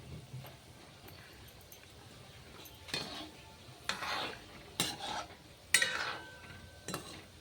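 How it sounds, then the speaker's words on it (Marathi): Gulab jamun fry in oil while a utensil keeps nudging them around, a faint low sizzle broken by several clinks and scrapes against the pan that grow more frequent toward the end. "ह्याला या असं नुसतं हलवत राहायचंय, कारण सगळीकडून शेकले पाहिजे ते गुलाबजामुन, तळले पाहिजे."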